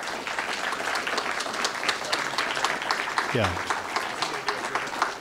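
Lecture audience applauding a speaker, dense sustained clapping filling the room for several seconds, with a voice speaking briefly over it.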